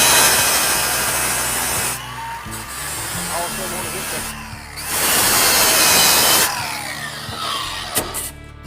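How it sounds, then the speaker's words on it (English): A drill fitted with a 36-grit abrasive grinds a tire wheel to rough up its surface, a loud close rasping roar in long passes broken by brief pauses, with someone talking over it. "Here we go, we're gonna grind this wheel"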